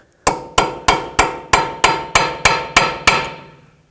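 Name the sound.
hammering a chisel to lock the Toyota Prius CV axle nut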